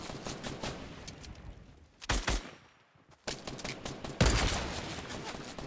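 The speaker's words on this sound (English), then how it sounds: "How are my shots not hitting him?" Gunfire in Fortnite Battle Royale, rapid bursts of shots crackling in dense clusters with a brief lull in the middle, loud and close, with a voice talking faintly underneath.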